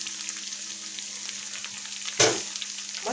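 Potatoes with vegetables sizzle and crackle steadily in a large hot pan, then a sudden scrape and stir briefly makes the frying louder.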